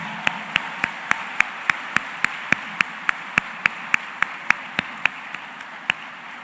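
Slow, evenly spaced handclaps ring out one after another, a single steady rhythmic clapping rather than a crowd.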